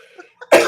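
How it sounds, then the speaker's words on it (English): One loud, close cough bursts out suddenly after a brief moment of faint background sound. "Can you just cough more loudly directly into the microphone?"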